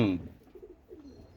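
A pigeon gives a couple of soft, low coos right after a brief burst of nearby voice, fairly faint against a quiet indoor background.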